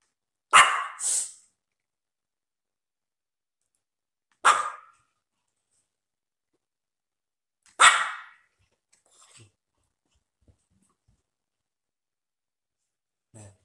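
A dog barks three times alone, each short bark separated by several seconds of silence, fairly close and loud, followed by a few faint small noises.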